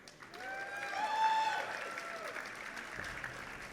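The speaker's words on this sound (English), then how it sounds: "Let's hear a cheer" Crowd at a StarCraft tournament cheers and applauds, a swelling wash of clapping and whoops that peaks mid-clip and then fades, with a voice faintly audible at the end.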